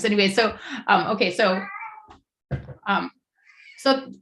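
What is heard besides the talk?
cat meowing in the background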